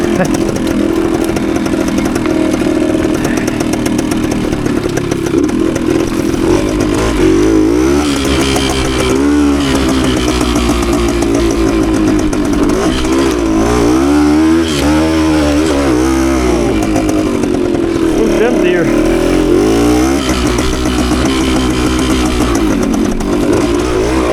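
A 52-year-old Suzuki TS185 two-stroke trail motorcycle ridden on dirt trails, its engine buzzing loud and close throughout, rising and falling in pitch as the throttle is worked, with no break or lull.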